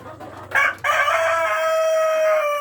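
A rooster among breeder chickens in a cage crows loudly and close by, a long drawn-out call after a brief cluck, with faint hum behind.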